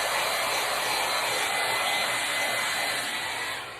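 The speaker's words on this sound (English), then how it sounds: "So if you have a blow dryer that has a cold setting, you can do this." A hair blow dryer on its cold setting blows over an ink mat, a loud, steady rushing whoosh of air that runs continuously and then tapers off at the end.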